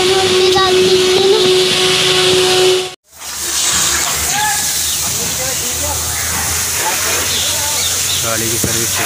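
High-pressure water spraying on a car during a service wash, a loud steady hiss that cuts out briefly partway, then resumes a little softer with faint voices and clatter underneath.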